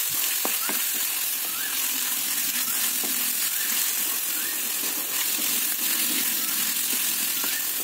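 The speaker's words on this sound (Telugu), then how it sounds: "టమాటా ముక్కలకు మసాలా బాగా కలుసుకునేటట్లు కలుపుకోవాలి" Tomato pieces stirred with masala in a sizzling frying pan for a Rayalaseema-style fish curry, with a steady loud frying hiss and occasional soft scrapes of the spoon, no voices.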